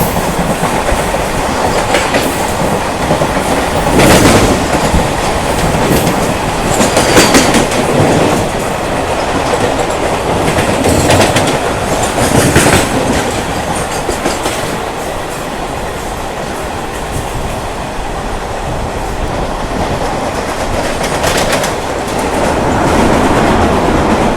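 Fast local train on the Barddhaman to Howrah line running at high speed, a loud continuous rumble of wheels and carriages with rhythmic clickety-clack and occasional rattling bursts throughout.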